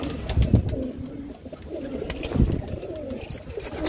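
Soft, repeated pigeon coos close by, a low throaty rhythm with a few faint rustles in the background.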